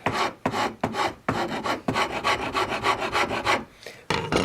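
A metal file rasps across the wooden fretboard of a Strat-style guitar, scalloping the wood between frets. About a dozen quick, dry back-and-forth strokes come close up and loud, with brief pauses between bursts.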